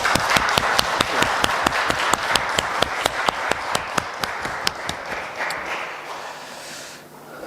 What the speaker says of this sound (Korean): 우리 다시 한번 박수 한번 하겠습니다